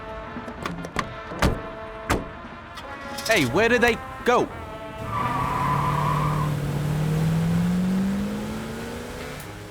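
Car driving off toward the pier, tires skidding briefly, then the engine revs and accelerates away in a long rising pull, after quick talk and a few sharp knocks.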